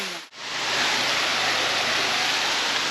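Rushing water at Manneera waterfalls in Konni, Pathanamthitta, Kerala, a loud steady roar that swells in after a short dip and continues unbroken.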